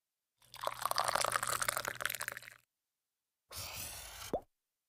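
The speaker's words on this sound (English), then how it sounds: "Let us fill the cups with coffee." Hot coffee poured into cups, a close, steady liquid stream for about two seconds, a pause, then a shorter second pour ending with a brief splash.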